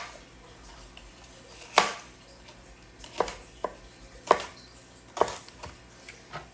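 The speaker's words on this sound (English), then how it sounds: "we're going to chop up our onion" An onion is chopped on a cutting board with a knife, giving sparse, sharp knocks at an irregular pace, close and fairly quiet against a low background.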